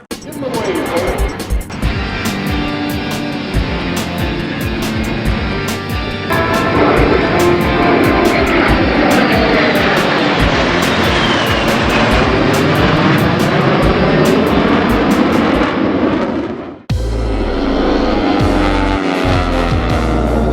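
Warbird airplanes roar overhead at the EAA AirVenture Oshkosh airshow. The loud engine drone rises and shifts in pitch as they pass, then cuts off abruptly near the end. A public-address voice talks over the engines.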